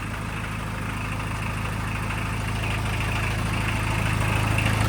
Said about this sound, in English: Guys, it fired right up, man.